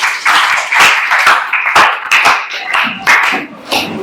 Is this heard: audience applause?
yes